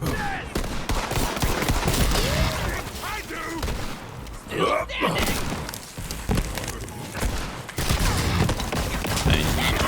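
Shotgun blasts from Jakobs guns in Borderlands 3: repeated heavy shots with punchy knockback thuds amid a chaotic firefight, with someone talking throughout.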